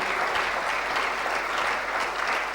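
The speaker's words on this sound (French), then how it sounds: "Acclamons pour la gloire de Dieu." A church congregation applauds steadily, a dense, even clapping from many hands filling the room without a break.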